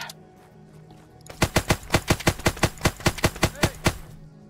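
Rapid automatic gunfire between players in Arma 3 rattles out in a fast, evenly spaced burst of about fourteen sharp, loud shots after a quiet opening, with no talk over it.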